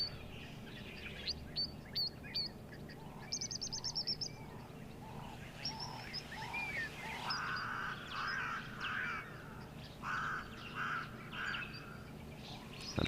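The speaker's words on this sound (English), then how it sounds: "the Namakwa sandgrouse, lovely little bubbly sound that they make" Namakwa sandgrouse giving soft bubbly calls in a flock, repeated short notes outdoors among other birdsong, faint and without talk.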